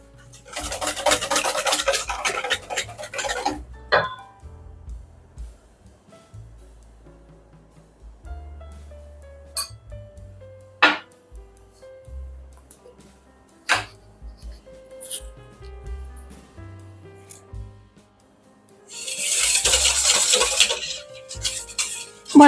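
Utensil whisking and stirring a savory mushroom and pea tart filling in a bowl, a busy scraping burst at the start, sparse clinks in between, then another brisk burst of stirring near the end, close by.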